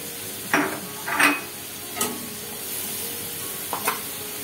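Tomato, turmeric and spices are stir-fried in a pan, with a continuous sizzle and a few sharp spatula scrapes and knocks against the pan at irregular intervals, close and without speech.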